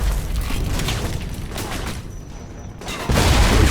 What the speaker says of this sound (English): he is throwing grenades everywhere